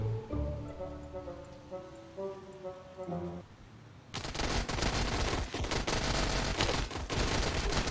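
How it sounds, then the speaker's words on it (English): Gunfire erupts in the WarBox Sandbox video game during a zombie attack. After a few seconds of light melodic music, dense rapid fusillades of shots roar continuously and loudly to the end. "Wait, why y'all shooting each other?"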